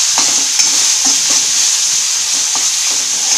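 Onion and tomato sautéing in a pan for an Indian egg masala curry, a steady bright sizzle with soft scraping stirs at irregular intervals, close and continuous, no voices.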